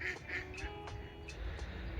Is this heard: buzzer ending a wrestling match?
no